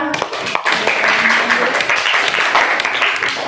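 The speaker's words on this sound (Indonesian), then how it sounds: "Tepuk tangan untuk kita semua." A class of schoolchildren claps together after a lesson, a broad, somewhat ragged burst of applause from many small hands, with children's voices mixed in under the clapping.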